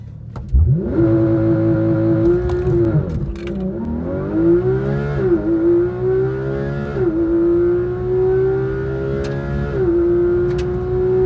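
Porsche GT3 RS accelerating hard on a drag racing pass: a loud, close engine note climbs through several gears, with brief dips at each shift, and keeps pulling steadily to the end with no talk.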